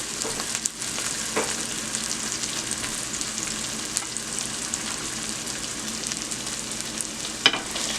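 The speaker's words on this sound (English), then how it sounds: "And that just is going to continue to fry." Corned beef fries in hot oil in a pan for Liberian corned beef gravy, a steady close sizzle with a few faint clinks of stirring.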